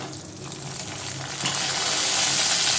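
Roasted dried chillies fry in oil in a pan as garlic is added, the close sizzle growing louder and brighter partway through and holding as a steady hiss.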